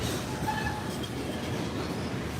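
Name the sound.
freight train with box and tanker cars picking up speed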